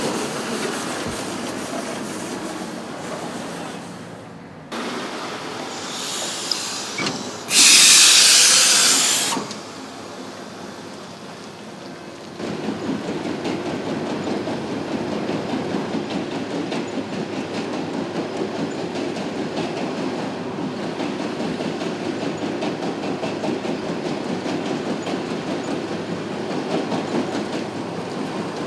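Asphalt milling or pickup machine at a road work zone lifting laid asphalt into a hopper, a continuous heavy mechanical rumble and clatter, with a brief louder hissing burst early on.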